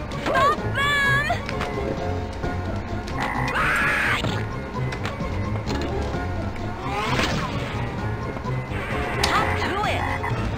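Cartoonish frog croaks ring out from a pinball video game amid busy game effects, bleeps and music, with a voice speaking over the action throughout.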